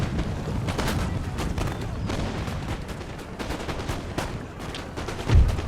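Line infantry firing musket volleys in Empire Total War, a dense, continuous crackle of overlapping shots with scattered booms heard at a distance throughout.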